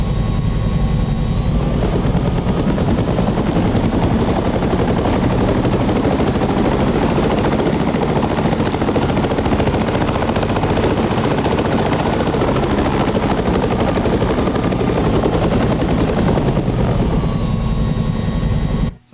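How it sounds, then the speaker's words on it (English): Loud, continuous chopping drone of a Huey helicopter's rotor and engine, steady for a long stretch before cutting off abruptly. "let's listen to the Huey helicopter"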